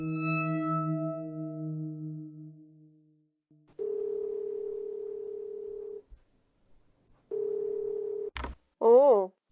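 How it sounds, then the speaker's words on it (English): A phone being picked up in a darkened room brings a fading low hum, then two stretches of steady dial tone split by silence and clicks, ending in a sharp chirp and a warbling electronic tone. "a lone figure picks up the phone."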